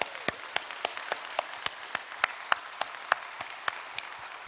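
A church congregation at a dawn worship service claps in steady unison, about fifteen crisp, evenly spaced claps in a brisk rhythm, heard alone without talk.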